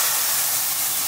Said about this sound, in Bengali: ভাজা সেমাই এই যে দুধের মধ্যে ছেড়ে দিতে হবে।